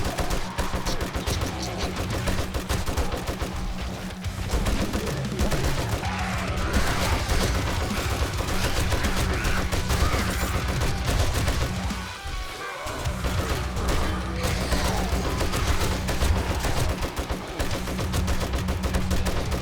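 Sustained rapid gunfire from a weapon in the video game 7 Days to Die, loud and dense continuous bursts with crashing impacts, briefly dipping around the middle before resuming at full intensity.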